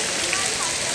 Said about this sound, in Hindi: यहाँ पर बिन बादल बरसात हो रही है, बहुत अच्छे फुहारे लगाए हुए हैं,